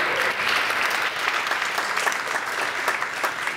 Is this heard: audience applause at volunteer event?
yes